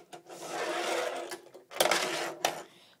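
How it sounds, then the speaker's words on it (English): Tech deck fingerboard rolling over a small skate ramp, a close, gritty whirring roll in short bursts broken by brief gaps and a sharp clack near the end, with no voices. "if you never had a ramp for tech decks, this is like the sound"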